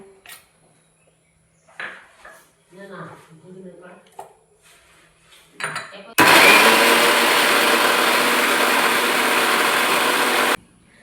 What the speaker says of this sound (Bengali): আমের পাল্পগুলো আমি ছাড়িয়ে দিয়েছি, এরপর আমি মিক্সারে ব্লেন্ড করে নেব।